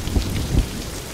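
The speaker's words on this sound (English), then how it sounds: "That thunderclap was kind of a thud of realization for Kravas." Steady heavy rain in a scene from the Star Wars series Andor, with two deep thunderclap thuds rolling under the downpour, loud and close.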